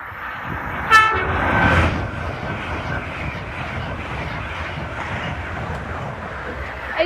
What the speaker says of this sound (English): the next train to pass is going to be an Alenia Azuma running 5 minutes late from Edinburgh to London King's